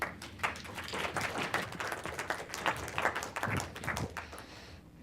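An audience claps to welcome a speaker at a business forum lecture, a dense patter of many hands lasting several seconds before tapering off.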